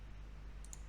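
A single press of the Enter key on a computer keyboard gives two quick, faint clicks close together over a low steady hum.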